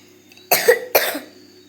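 A girl gives two sharp, close coughs about half a second apart, loud against a quiet background with a low steady hum.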